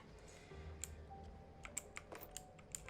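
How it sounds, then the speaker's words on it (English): Keys on a computer keyboard fitted with silencer rings clack in quick, irregular taps, close and fairly crisp, over a faint background hum. "I actually put those silencer rings on the keys, and it's still this loud."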